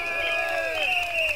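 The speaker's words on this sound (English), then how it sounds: "Give us a round of applause, everybody!" Rally crowd at an SDP political rally at a primary school in Singapore cheers and applauds in a dense, continuous roar with whoops rising over it, loud and close, lasting only a moment.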